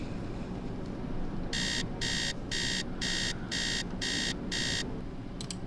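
Digital alarm clock ringing in the Nancy Drew: Treasure in the Royal Tower video game, seven evenly spaced high electronic beeps over a steady low ambient hum, no voices.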